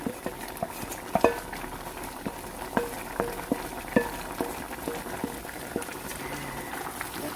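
Curry powder paste is stirred into a pot of simmering onion curry. A wet bubbling simmer runs throughout, and a spoon scrapes and knocks against the pot at a steady, unhurried pace.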